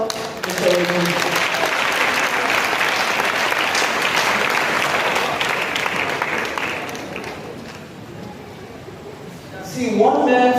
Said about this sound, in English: I think we need to applaud Mr. Ojo.